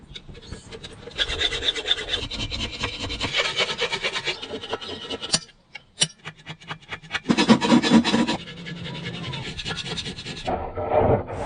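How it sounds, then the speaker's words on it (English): Rough rasping strokes of a hand file on a cast metal piece, in long bursts separated by brief pauses, close and loud with scraping texture and a few sharp knocks. "And you see now we do filing."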